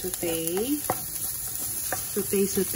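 Ground meat sautéing in a pan with onion and garlic: a continuous close sizzle with light stirring clicks and a few brief squeaky tones, no speech.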